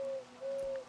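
Bird calls from a spooky video game, crows in the scene, heard as a short, faint tonal cry repeated twice with a gap between, alone without talk.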